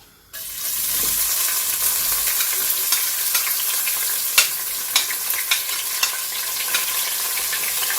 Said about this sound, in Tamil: இப்போ வெங்காயத்தை போட்டுக்குவோம்.